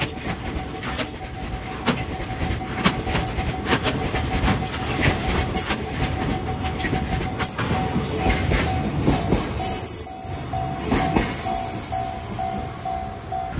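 A freight train carrying household garbage for Kawasaki City rumbles past nearby, wheels clattering over rail joints in a steady rhythm with faint squeals, and no talking.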